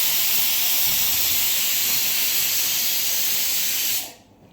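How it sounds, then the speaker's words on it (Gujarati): A pressure cooker whistle lets out a loud, continuous, close steam hiss for about four seconds, then cuts off abruptly into quiet. "કુકરની સીટીઓ વાગે છે ઘમાઘમ."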